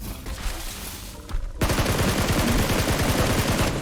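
Rapid automatic gunfire in the mobile game PUBG Mobile fires from inside a house, starting with a few scattered shots and then a loud, sustained burst of closely spaced rounds.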